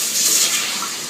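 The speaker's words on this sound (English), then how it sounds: "Now we'll be adding 2 cups of water." Two cups of water poured into a pan of spinach sauce make a steady, close splashing rush that holds evenly throughout.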